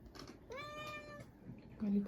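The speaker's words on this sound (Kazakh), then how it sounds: "Мысық." A cat gives one clear, drawn-out meow near the middle, nearby and moderately loud, with faint background noise and some low talk around it.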